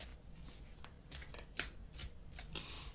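Tarot cards shuffled in quick riffling bursts, crisp papery flutters and slaps close by and alone, with a sharper riffle near the middle.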